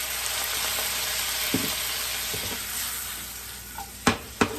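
Garlic butter and white wine sizzling in a pan, a steady close hiss with scraping stirs partway through and two sharp utensil knocks near the end.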